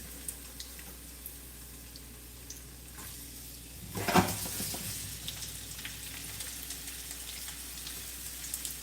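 Vegetables sauté in a pot with a faint, low sizzle, then a brief louder burst of crackling and stirring around the middle before settling back into a quiet steady frying hiss.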